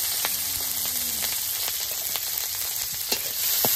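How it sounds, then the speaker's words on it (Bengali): Green chilies and onion fry in oil in a pan with a continuous bright hiss, broken by a few light stirring taps and scrapes, close and without talk. "কাঁচামরিচ পেঁয়াজটা হালকা করে ভেজে নিব"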